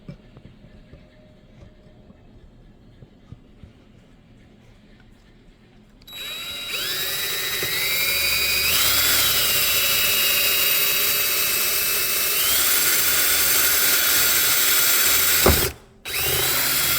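Quiet background, then a power drill starts up loud and whines steadily, its pitch rising and dipping as it bores a mounting hole for a downrigger swivel base, stopping briefly near the end.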